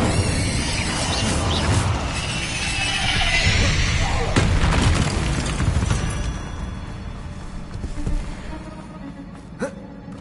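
Bombarda and Confringo spell blasts from Hogwarts Legacy boom and crash in a dense run of loud impacts during spider combat, with a sharp final burst near the end.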